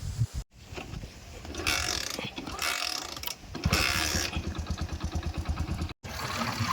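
A motorcycle engine runs and revs nearby with mechanical clicks and rattles, its steady idle pulsing through brief pauses.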